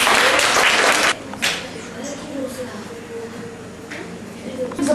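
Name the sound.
applause for a student's presentation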